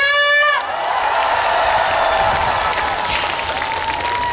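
Festival crowd at the Ulsan shipbuilding and ocean festival bursts into loud, sustained applause and cheering with whoops after a brief harmonic tone at the start, the dense roar holding steady throughout.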